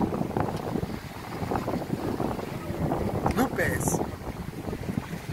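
Strong wind gusting over the open sea aboard a boat near San Evaristo, a steady broadband roar with buffeting microphone noise throughout, while people talk beneath it.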